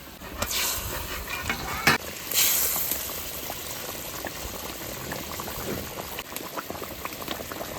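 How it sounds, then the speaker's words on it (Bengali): A pot of fish curry for an ilish dish, with a mustard and poppy-seed base, boils steadily and up close, a dense continuous bubbling and gurgling with a few brief clatters near the start. "মাছের ঝোলে জাল উঠে গেছে"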